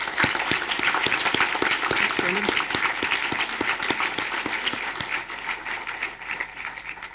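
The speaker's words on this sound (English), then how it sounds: "Let's give them all a round of applause" Steady audience applause at a Charter Day 2012 honors ceremony at St. Francis, a full room clapping loudly and evenly with crisp individual claps near the front, slowly fading toward the end.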